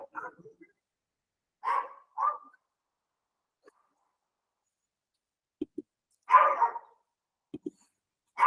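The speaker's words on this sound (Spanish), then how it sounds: "Una disculpa por estos ladridos" A dog barks in short bursts, a couple of sharp barks near the start and a louder, longer bark later, with small clicks and quiet gaps between, heard indoors during an online lecture.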